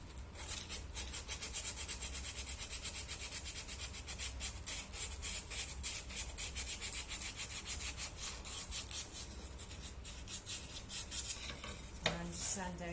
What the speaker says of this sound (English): just sand down these rough edges